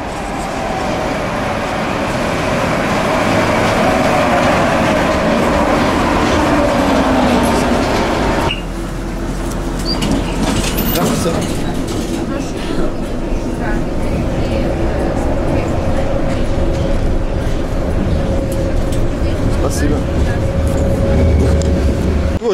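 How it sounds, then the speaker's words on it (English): A Kyiv number 9 train rumbles into a station with a rising and falling tonal whine from the wheels and motors, a steady loud roar throughout. "So finally arrived the train."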